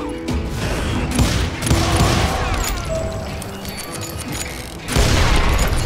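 Dense video game shootout with sustained bursts of gunfire, booming impacts and clattering mechanical sounds, loud and continuous with a sharp burst near the end.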